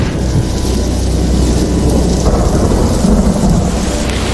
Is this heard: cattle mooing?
no